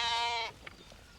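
A sheep gives one short, close bleat in rural Kenyan Maasai country, with faint outdoor background sounds afterward.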